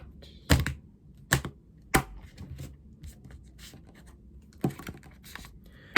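Tarot cards are cut by hand on a table, giving a handful of sharp, close card snaps and slaps spaced irregularly over soft rustling, with no voice.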